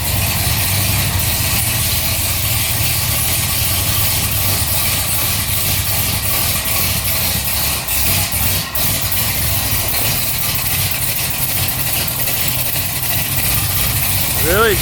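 A supercharged Corvette engine with new large fuel injectors idles loud and rough on its first start, a constant shaky rumble with a voice briefly audible over it.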